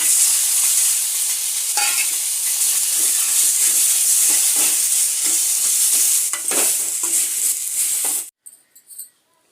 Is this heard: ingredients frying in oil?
yes